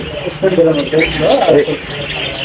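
Caged pet birds in a bird shop chirping and twittering in short bursts close by, heard under someone talking.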